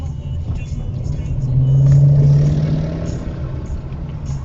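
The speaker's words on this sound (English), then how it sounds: "I do like the sound of the engine" Car engine accelerating away from a petrol station, its hum rising to a louder steady drone at the peak and then fading, heard from inside a moving vehicle with a voice over it.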